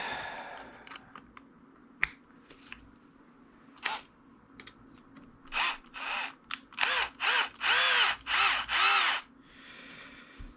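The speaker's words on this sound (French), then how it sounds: "On va pas visser jusqu'au bout" Power screwdriver driving screws into a Hobao Hyper GTB RC car during assembly: a few clicks and short taps, then a run of rapid whirring bursts, close and loud, with no talk.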